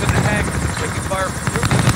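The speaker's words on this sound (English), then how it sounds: "Let's get the helicopter." Helicopter rotor and engine noise from the video game Modern Warfare (2019), a steady loud whir throughout, mixed with game effects and voices talking over it.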